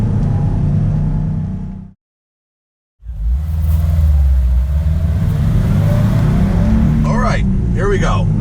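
A 2018 Subaru WRX STI Type RA on a racetrack, its engine droning loudly from inside the car, cutting out for about a second before resuming. A voice speaks near the end.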